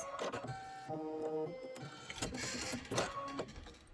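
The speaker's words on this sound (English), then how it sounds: "This is going to be 3 minutes of stitching" An embroidery machine stitches a wreath stem, a busy run of rapid mechanical needle clatter and whirring motor tones with pitch shifts, close and steady, with no voices.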